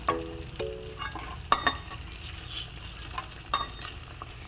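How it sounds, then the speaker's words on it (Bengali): Eggplant slices fry in a pan with a soft, steady sizzle, punctuated by occasional light scrapes and taps of stirring; quiet and close, with no voices. "তো এখানে লাল করে বেগুনগুলো ভেজে নিলাম।"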